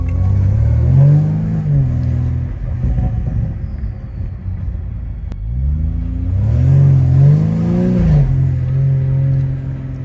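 A BMW car with a swapped engine revs as it accelerates in sport mode at light throttle, making a deep, bassy rising drone that swells twice with a quieter lull between, heard close with no talking.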